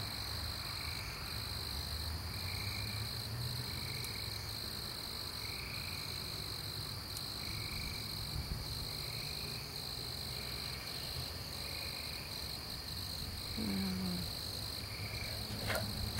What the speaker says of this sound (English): Crickets sitting right here next to me. Tree frogs in the distance too.